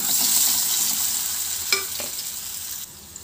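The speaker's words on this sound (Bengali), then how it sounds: "এখন এই তেলের মধ্যে ম্যারিনেট করে রাখা বেগুনগুলো দিয়ে দিচ্ছি।" Marinated brinjal pieces dropped into hot refined oil in a pan, giving a loud close hiss that slowly settles, with a couple of light clinks, no talking.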